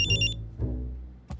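A telephone rings briefly in a cartoon scene, a short bright electronic trill that stops quickly, followed by low tones and a soft knock.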